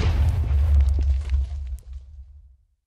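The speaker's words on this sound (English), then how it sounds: "Did the skeleton like shoot that and it blew up on the skeleton or something?" A Minecraft explosion set off by a skeleton's shot booms deep and loud, rumbling with crackling debris for about two seconds before fading into silence.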